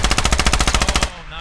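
M4 automatic fire in a close-quarters combat video game, a loud, close burst of about a dozen rapid evenly spaced shots that stops abruptly, followed by a brief fading tail.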